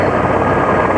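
A helicopter flies overhead on an aerial seeding run over the hills, its dense, loud rotor and engine roar filling the whole moment without a break.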